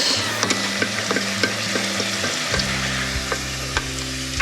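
Homemade sweet potato fries fry in a pan with a steady close sizzle and bubbling hiss, broken by occasional light taps and scrapes as they are stirred.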